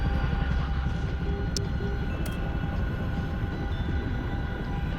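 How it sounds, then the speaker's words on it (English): A Chinook helicopter in the DCS flight simulator gives a loud, steady rotor and engine roar that holds at a constant level throughout, with no talk over it. "I gotta lower the volume a little bit on DCS because the Chinook's too loud"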